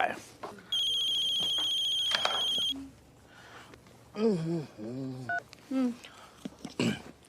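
Mobile phone rings with a bright electronic tone for about two seconds, then voices talk in Hindi over quiet background.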